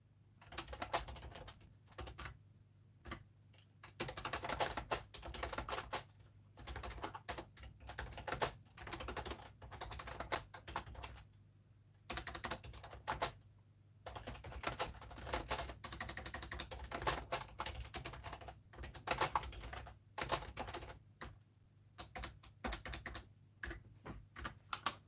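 Rapid keyboard typing for a short note, quiet and close, with irregular bursts of keystrokes and brief pauses continuing for about twenty-five seconds, no voices.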